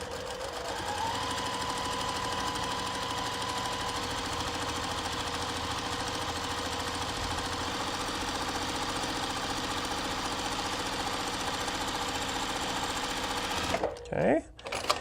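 Sewing machine running steadily to stitch a quarter-inch seam on quilt fabric for a churn dash block, a continuous close whirring hum that stops abruptly near the end with some handling noise.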